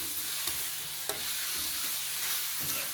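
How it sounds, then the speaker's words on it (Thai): Sliced pork neck with lemongrass is stir-fried in a hot pan. A steady sizzle and hiss carries on throughout, broken by a few sharp scrapes of stirring, with no voices. "ลงมือผัดต่อให้ทุกอย่างสุกเลยครับ"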